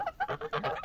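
Ducks let out to bathe give a rapid series of close, loud nasal quacks and honks, about six bursts in under a second with no talking.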